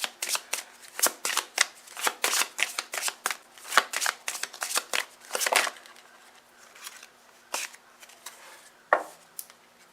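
Cards are riffled and shuffled repeatedly up close, crisp rapid flutters in bursts, then a few sparser snaps and taps near the end.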